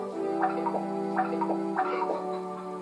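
Chickens clucking in the video game Wild Arms, short repeated bursts over a steady low electronic hum, with no voices.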